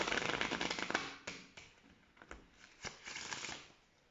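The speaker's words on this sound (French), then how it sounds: "Je vous apprends à faire le mélange à l'américaine." Playing cards being riffle shuffled American-style, a close, crisp flurry of fluttering clicks in several quick bursts, then tapering off, heard alone.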